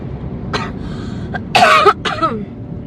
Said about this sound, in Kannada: ಅಪ್ಪ ವಾರಣಾಸಿಯಿಂದ ಬಂದಾಗಿಂದ ನನಗೆ ಕೆಮ್ಮು ಹೋಗ್ತಾ ಇಲ್ಲ